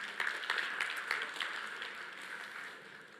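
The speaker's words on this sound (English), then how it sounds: "Give a round of applause to Nipun." A conference audience at a blockchain developer event claps for a departing speaker. The crisp applause is moderately loud at first, then thins and fades toward the end.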